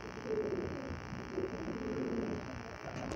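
Gentle cooing from Sabaz Cheena pigeons rises and falls in a continuous murmur, fairly quiet against a constant low hum.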